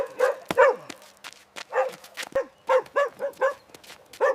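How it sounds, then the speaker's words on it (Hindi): A dog barks repeatedly behind a house, a run of sharp, loud yelps and barks spaced irregularly, some close together, with no talk over them. "ये साला कुत्ता रोज यहाँ पीछे 3 सालों से भौंक रहा है"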